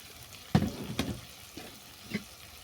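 Pumpkin flowers frying with chilli, garam masala, cumin, coriander and turmeric powders in a pan, a soft steady sizzle broken by a few sharp scraping stirs of a spoon, close and fairly quiet with no talking.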